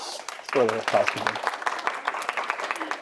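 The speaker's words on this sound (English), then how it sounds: "Big round of applause" An audience applauds at a high-performance athlete nutrition seminar. A voice calls out briefly, then a bed of scattered clapping continues at moderate volume.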